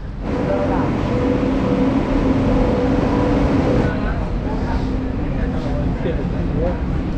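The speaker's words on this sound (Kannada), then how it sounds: "ಫೈನಲಿ ಈಗ ನಮ್ಮ ಟ್ರೈನ್ ಬರ್ತಾ ಇದೆ." A train pulls into a railway station with a deep rumbling drone and a few sustained tonal hums that ease off partway through, while a voice may be faintly present.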